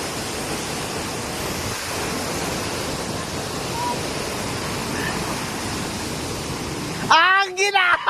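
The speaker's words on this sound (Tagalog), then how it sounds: "So this is the Utod Falls." Utod Falls in Magallanes, Cavite pours in a dense, steady roar of rushing water close by. In the last second a voice speaks briefly over it.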